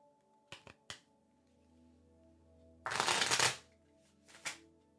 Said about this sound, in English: let me get the cards and start my shuffling business here.